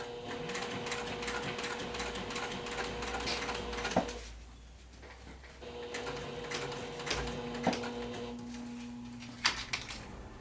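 Sewing machine stitching stretchy vinyl, a steady mechanical whir with rapid rhythmic needle clatter that pauses briefly near the middle and then resumes, with a few sharp clicks along the way.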